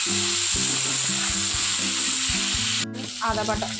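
Cashews and raisins fry in hot oil with a steady, loud sizzle, with a brief dip near the end and a short burst of scraping from a stirring spoon.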